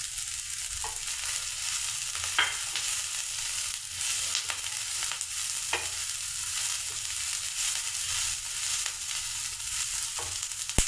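Garlic cloves and ginger frying with onion in a pan, a dense, steady close sizzle that continues throughout, with a few faint stirring scrapes and no voices.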